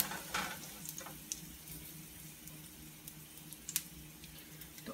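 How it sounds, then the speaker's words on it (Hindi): Garlic cloves sizzle softly in hot oil in a home kitchen, a steady faint frying hiss with a few light clinks of stirring and no talk. "तो हम इसके अंदर लहसुन के जवे ऐड कर देंगे। इनको हम थोड़ा सा पहले फ्राई कर लेंगे"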